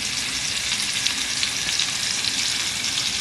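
Thick beef tenderloin steaks searing in butter in a hot pan give off a loud, steady, crackling sizzle that holds evenly throughout, with no voices.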